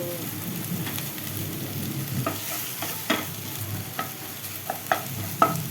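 Capsicum frying in a pan while being stirred, a steady close sizzle with a series of sharp scraping clicks from the spoon that grow more frequent toward the end.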